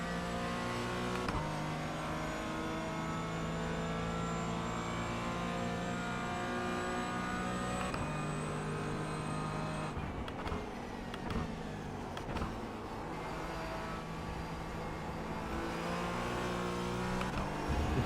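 Race car engine lapping Silverstone in a racing video game, a steady high-revving whine rising through the gears with sudden drops on upshifts and braking, loud and continuous with no talking.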